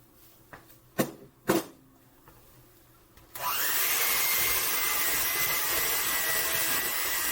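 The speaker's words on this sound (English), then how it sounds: "You might want to turn your mixer up a little bit more just because it's getting really hard to mix." An electric mixer kneading stiff apple bread dough runs as a loud, steady whir from the halfway point on, after a few sharp knocks over a quiet start.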